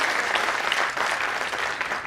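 Audience applause at a mushaira poetry gathering in Allahabad, a dense, steady clapping from a large crowd filling the whole stretch at strong, even loudness.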